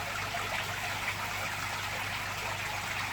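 Water trickles steadily into a fish tank as live water worms are dripped in for feeding, a constant close hiss of running water with no pauses and no voices.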